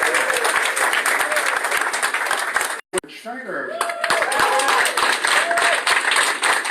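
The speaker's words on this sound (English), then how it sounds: "Let's give her another applause." A room full of people applauds steadily and loudly at a campaign event in Iowa, with a brief dropout midway and voices talking and calling out over the clapping.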